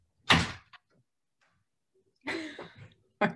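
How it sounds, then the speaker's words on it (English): A cat pushing open a door at home: a loud knock-like bump, a short rattle, then a scraping creak and a final thud, each separated by near silence. "my cat just opened the door."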